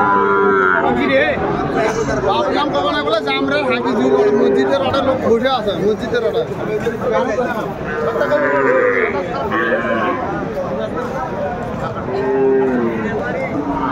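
Cattle low at a busy livestock market where Sahiwal bulls and calves are being bought and sold, the moos rising over constant crowd chatter and bargaining voices.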